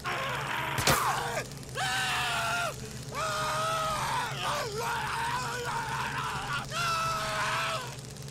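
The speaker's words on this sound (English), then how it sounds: "Okay, he's done screaming." A burning enemy in the video game Days Gone screams and groans in long, drawn-out, anguished wails, loud and close. A sharp hit or crack comes near the start, and the cries repeat over a steady background hum.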